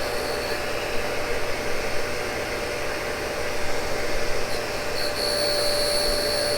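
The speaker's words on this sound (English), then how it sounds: "So we're just grinding away here." Cincinnati tool and cutter grinder grinding a Morse taper, a loud, steady hissing whine of the wheel with a faint high tone that sharpens near the end, continuous and without talk.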